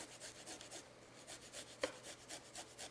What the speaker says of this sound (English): I'm gonna go ahead and grate these garlic cloves